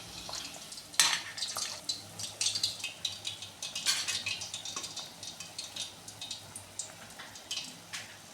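Fried mini sweets are lifted from the pan into sugar syrup, giving close clinks and scrapes of a metal utensil against cookware over a faint fading sizzle, in irregular bursts with no talking.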